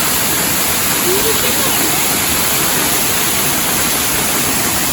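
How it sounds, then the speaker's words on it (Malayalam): The Kanjirakolly Alakapury waterfall pours from a great height, a loud, close, unbroken roar of rushing water that fills the whole scene with dense, even noise. "ഒരുപാട് ഹൈറ്റിന്നാണ് കേട്ടോ വെള്ളം വരുന്നത്. നല്ല കുത്തി ഒഴുകുവാണേ."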